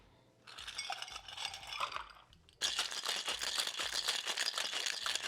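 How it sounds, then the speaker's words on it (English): Ice cubes rattle inside a cocktail shaker for a Valentine's Day rum drink, a soft clatter at first and then hard, rapid rhythmic shaking that grows louder and continues steadily, close up. "Let's get some ice in the shaker and shake this one up."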